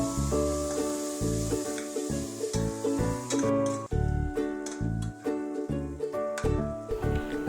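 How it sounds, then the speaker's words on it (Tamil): Tomatoes and ground coriander paste sauté in a pan, a continuous close sizzle with stirring scrapes, heard under prominent background music. "தக்காளி சுருண்டு வந்ததும் கொத்தமல்லி அரைச்ச பேஸ்ட்டை முதல்ல போட்டு வதக்கிக்கலாம்."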